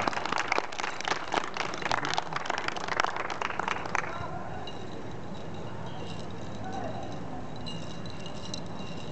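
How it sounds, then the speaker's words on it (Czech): An audience at a ČSFA tournament in Brno claps loudly and densely for about four seconds, then the applause stops abruptly and leaves faint room noise with distant murmuring. "Zatleskáme."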